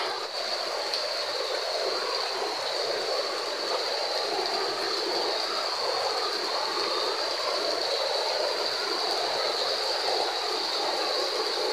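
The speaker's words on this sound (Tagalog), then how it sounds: "Grabe yung ulan, walang tigil." Nonstop heavy rain from Typhoon Bising in the afternoon, a constant rushing wash like running water, unbroken and fairly loud throughout with no speech.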